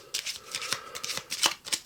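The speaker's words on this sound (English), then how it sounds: "I am definitely going to shuffle those again." A deck of cards being shuffled by hand during a board game, a quick series of crisp riffling bursts close up and fairly quiet.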